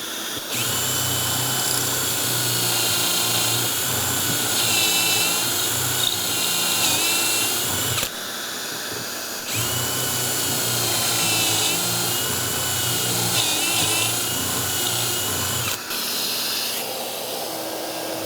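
A power drill whines loudly as it bores pocket holes in cabinet doors through a jig, over a roaring vacuum attached to the jig, with a few short pauses where the motor stops and restarts.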